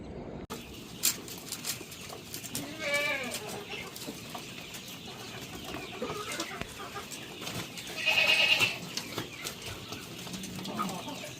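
Goats call out intermittently while being fed pigeon pea stalks, with a few bleats and bird-like clucks over a quiet outdoor background.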